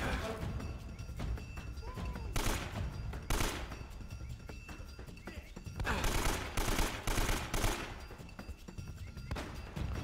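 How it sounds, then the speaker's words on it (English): Gunfire during a fortress shootout in Uncharted: Drake's Fortune, with bursts of rapid shots in clusters and quieter thuds and impacts between them, at a moderate distance. "Every single one of those bullets missed."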